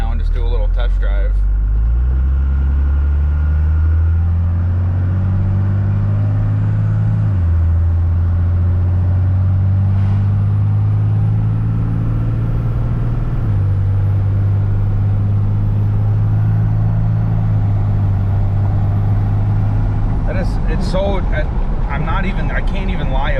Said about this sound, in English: we're just going to get out on the road right now and just do a little test drive.